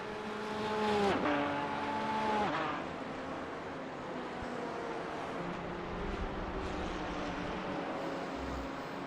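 Race car engines in a sim racing league event at Summit Point, one rising to a loud rev and downshifting past, then a steady drone of more distant engines as the field continues.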